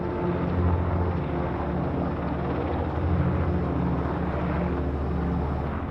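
An AH-64 Apache attack helicopter flies with a steady, loud engine drone and a low pulsing rotor throb that holds constant throughout, with no speech.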